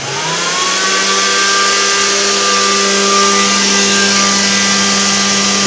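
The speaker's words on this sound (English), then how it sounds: "The hovercraft is floating." A remote controlled hovercraft runs its motor at a loud, steady whine with a high pitched tone, sustained throughout as it lifts off and floats.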